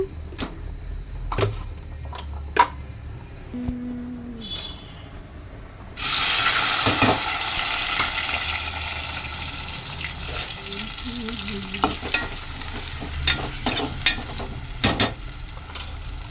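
Cucumber pieces hit a hot pan with a sudden loud hiss midway, following a few knocks and clinks, then the frying settles into a steady, close, gradually easing sizzle with occasional utensil taps, part of a dried fish and cucumber curry.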